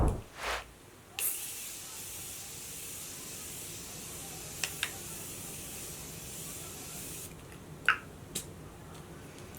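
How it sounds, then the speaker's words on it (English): Morphe Continuous Mist setting spray released in a long, steady pressurized hiss that runs several seconds, framed by brief handling clicks and rustles, close and fairly loud with no talking. "So the Morphe Continuous Mist Setting Spray, or Morphe Continuous Setting Mist."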